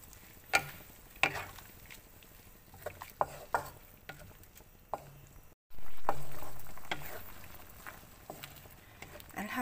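Fern and salted egg stir-fry in a pan, with repeated sharp clinks of a utensil scraping and stirring over a soft sizzle, a brief pause, then a louder steady hiss.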